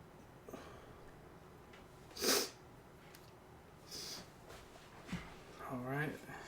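A person sniffles a few times in quick, breathy bursts spread over several seconds, close to the microphone against a quiet background, with a short murmur near the end.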